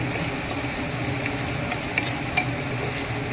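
Red masala frying in hot oil for masale bhat in a pressure cooker, a close, continuous crackling sizzle with soft stirring scrapes and a couple of sharper pops, no voices.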